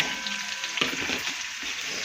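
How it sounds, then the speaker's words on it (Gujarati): Onion goes into hot oil with sizzling cumin for a Gujarati gavar curry. The pan carries a steady, bright frying hiss, which jumps into a louder burst of crackle when the onion lands, close up. "ચાલો હવે જીરું સતળાઈ ગયું છે તો નાખી દઉં ડુંગળી અંદર।"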